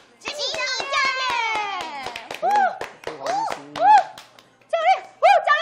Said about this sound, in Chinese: 掌声欢迎我们的执行教练